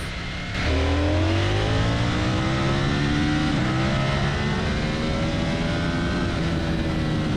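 A Ducati Streetfighter V4S sport motorcycle engine in sport mode kicks up and holds a strong, rising roar toward 4000 rpm, revving steadily and loud at close range with no voices.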